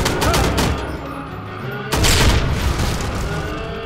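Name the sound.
exploding barrels in the video game Enemy Front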